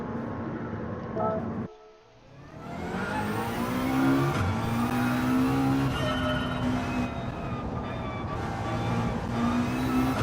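Race car engine from Gran Turismo 7 revving steadily with rising pitch after a brief dip, a continuous loud drone sustained throughout with occasional shifts.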